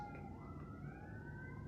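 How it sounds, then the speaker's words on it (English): A distant emergency vehicle siren wails faintly near a hospital, its pitch sweeping slowly upward beneath a steady low background hum. "we live near the hospital, so we hear a ton of sirens pretty much every single day"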